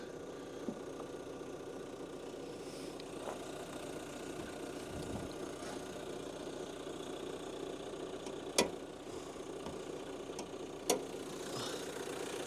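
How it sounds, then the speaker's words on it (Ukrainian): A steady, low idle from the 1.5 dCi diesel engine of a 2020 Renault Kangoo van hums throughout, with a faint ticking clatter and a couple of sharp clicks near the end; nearby, no talking. "двигун працює як часи"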